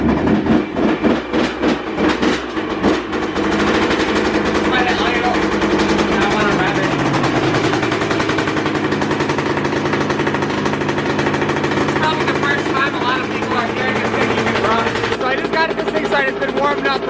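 A Kawasaki KX125 two-stroke dirt bike engine running loud and close, a fast rattling buzz that revs hard at first, then settles into a steady high idle.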